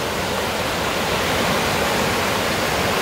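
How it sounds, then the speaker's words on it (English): Fast-flowing water at a mountain creek crossing in the Smoky Mountains along Forney Creek, a loud, dense, unbroken rush filling the whole stretch, with no voices over it. "This is my next creek crossing."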